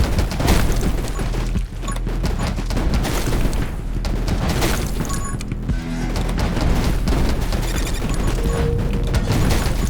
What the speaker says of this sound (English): Ran into one of our explosions again